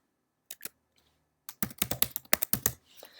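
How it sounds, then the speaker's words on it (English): Keys on a computer keyboard are pressed while a password is entered: a couple of isolated taps, then a quick run of crisp, close clicks. "and type in the password."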